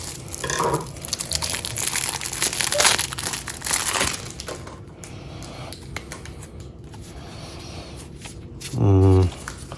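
Large The Witcher: Old World board game cards are handled up close, with crinkling, sliding and papery rustles in short bursts, ending with a brief thump.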